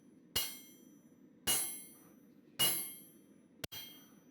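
Hot steel being forged at a blacksmithing conference gives four sharp, ringing metallic blows spaced about a second apart, each decaying quickly over a low background hum, with the last two strikes coming close together.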